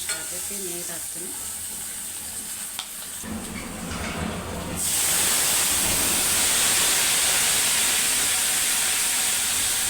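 Water poured into a hot frying pan of dal bursts into a loud, close sizzling hiss that swells and holds steady, following quieter frying and stirring.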